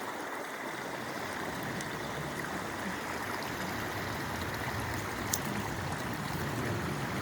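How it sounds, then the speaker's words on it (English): Water poured onto small plants in a burnt forest, a continuous broadband splashing and trickling rush that holds steady and fairly loud throughout, with no talk. "Let's give it some more water."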